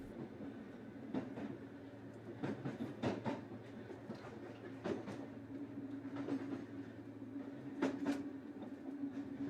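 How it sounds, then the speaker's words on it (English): An underground electric train on the up Southport line pulls into Sandhills station in Liverpool, a steady low rumble with repeated rail clicks and clacks at irregular intervals, heard from on board with no talk. "We are entering Sandhills Station Platform 1 on the up Southport line."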